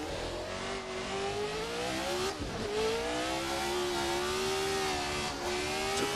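A 1970s Formula 1 race car at Montjuïc Park in the Assetto Corsa racing game revs hard with a loud, continuous high-pitched engine note that climbs steadily, dipping briefly at a gear change before rising again.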